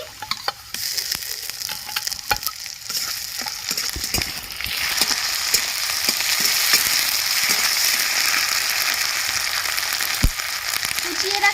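Ginger-garlic paste hits browned onions frying in oil for a fish curry: scattered sharp crackles and clicks build into a loud, steady, close sizzle that runs to the end, with no talking.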